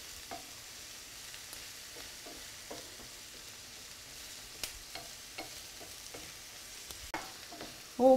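Sliced zucchini cooks in a pan for a frittata, with a faint, steady sizzle under scattered soft clicks and scrapes of stirring, ending in a louder clatter.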